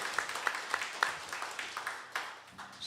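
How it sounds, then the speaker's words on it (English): Fairly faint applause from a live concert audience at a bluegrass radio show, a thin spread of scattered claps that rises and falls in small bursts over the whole stretch. "Y'all give a round of applause for my girlfriend right here"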